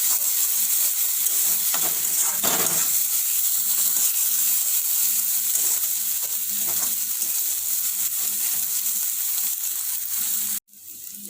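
Onion with ginger-garlic paste frying in oil in a kadhai for a mushroom curry: a steady, close sizzle with intermittent stirring scrapes, running continuously until an abrupt clatter near the end.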